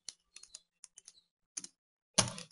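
Sparse keystrokes tap on a computer keyboard in short irregular bursts, close and crisp, ending with a louder, longer clatter of keys; no one speaks.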